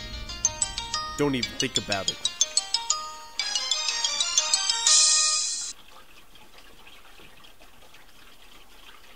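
A telephone rings with a sharp, repeated electronic ringtone, loud and close, running for several seconds before cutting off; a person speaks briefly over it.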